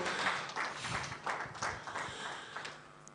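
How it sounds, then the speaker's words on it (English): Round of applause from an audience at the HiFL 2022 draws event, a short spread of faint, scattered hand clapping in a large room that fades out within a few seconds. "Please, a round of applause for..."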